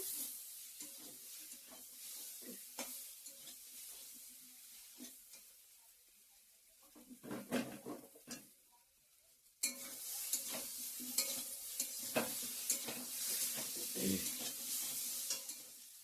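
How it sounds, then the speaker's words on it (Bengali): Ground chili, cumin and coriander fry in a pan for a vegetarian taro leaf dish, a quiet sizzle with repeated stirring scrapes that swells into a louder, hissier fry midway, with no voices. "ভালো করে কষানো হয়ে গেছে মশলার সঙ্গে সব মশলা দিয়ে দিচ্ছি গুঁড়ো মশলা লঙ্কার গুঁড়া জিরার গুঁড়া ধনিয়ার গুঁড়া কষিয়েও নিয়েছি ভালো করে"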